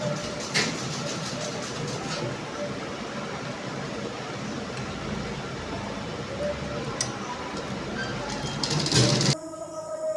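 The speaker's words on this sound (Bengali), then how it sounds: "এরপরে আমি এটাকে এইভাবে করে আমি সেলাই করে নেব" A sewing machine stitches churidar fabric with a steady, rapid mechanical whir close by, running continuously before stopping abruptly near the end.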